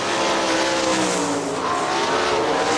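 410 sprint cars race bumper to bumper at Hartford Speedway Park in Hartford, Michigan, their engines a loud, continuous, high-revving roar with harmonic whine throughout.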